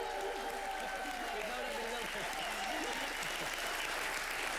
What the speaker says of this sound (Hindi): जोरदार तालियों के साथ प्लीज एक्नॉलेज कीजिए कॉमेडी का किंग को